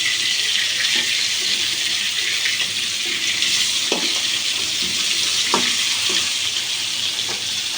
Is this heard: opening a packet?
no